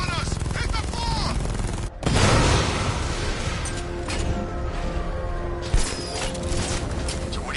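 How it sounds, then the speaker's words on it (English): Gunfire in Batman: Arkham Knight opens with a sudden heavy burst, then a rattling, noisy barrage of shots and clanking impacts continues under the game's busy sound mix. "He's firing on us! Hit the floor!"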